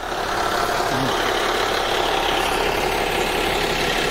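A Golden Dragon–engined NPM bus with Avante Tentrem bodywork, bound for West Sumatra, idles steadily before departure, a continuous low engine rumble with broadband noise throughout and no voices.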